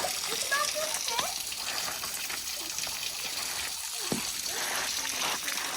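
Waterfall flowing among ice in the Ozarks, a steady broadband rush and gush of falling water filling the space, with faint voices talking briefly over the continuous flow.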